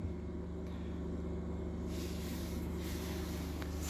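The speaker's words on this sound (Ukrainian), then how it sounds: "Тому ми запускаємо наш дизель цим реле напруги" An old diesel generator engine rumbling steadily at a low, constant idle, close and loud throughout, with a brief hiss shift partway through and no voices.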